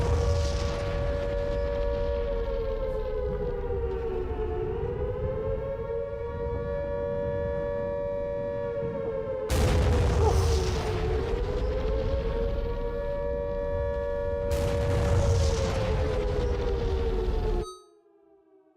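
Ballistic missile strikes land during a video game battle as a loud civil defense siren wails and wavers continuously, while two heavy rumbling explosions burst through around 10 and 15 seconds before the sound cuts off abruptly.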